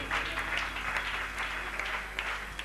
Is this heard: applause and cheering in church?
yes